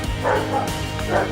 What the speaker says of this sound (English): You could probably hear him barking now.